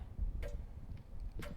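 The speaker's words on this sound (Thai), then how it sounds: "มีเสียงนาฬิกาตรงนี้" Clock ticking in the Roblox horror game Ao Oni, giving two distinct ticks about a second apart over a low, rumbling ambient background.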